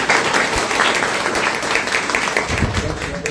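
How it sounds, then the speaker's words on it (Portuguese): Audience at a public lecture celebration applauding after a welcome, sustained dense clapping from a crowd filling the room, fairly loud, with a voice briefly surfacing near the end. "Palmas para vocês"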